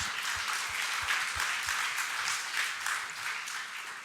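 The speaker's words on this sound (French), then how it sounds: "je vous demande d'applaudir pour tous ceux qui ont permis que ça se produise" An audience applauds at the official closing of a weather and climate event, a dense, steady wash of clapping with no voice over it.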